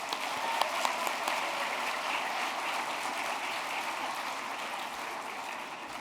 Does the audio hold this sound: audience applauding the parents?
yes